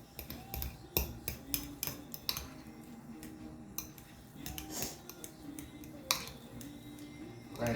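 A knife cuts up a tomato for BLTs in a home kitchen, giving quiet, irregular taps and clicks on the board, some sharper than others.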